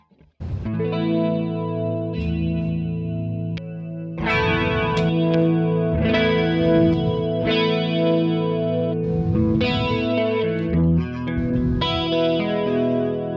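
Grunge guitar chords played through a Quad Cortex amp modeler, loud distorted strummed chords held and changed every second or two in a continuous run, close with no talking.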